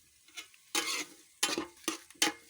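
Fish curry base of oil, mustard seeds, curry leaves, green chillies and tomato in a pan, heard as four or five short bursts of loud sizzling and stirring separated by near-silent gaps.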